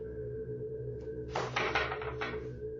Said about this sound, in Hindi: भाई के घर के दरवाजे अपने आप खुल रहे हैं, वो बंद हो रहे हैं